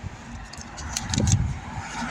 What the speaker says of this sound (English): get away from some of this traffic noise